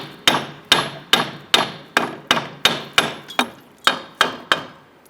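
A hammer strikes a 1994-2004 Ford Mustang front shock unit to free it from the steering knuckle, about a dozen sharp metallic taps at a steady, even rhythm, close and alone.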